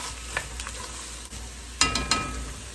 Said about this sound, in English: Give them a good stir